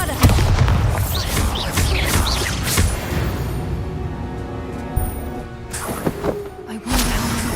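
Bombarda, an explosion spell in Hogwarts Legacy, lands as several heavy booms and crashes in quick succession, with a rumbling tail and another burst near the end.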